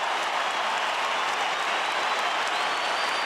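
A crowd at an AFL match between Port Adelaide and Geelong roars after a Port goal, a broad, steady wash of cheering and clapping that sounds distant and sustained.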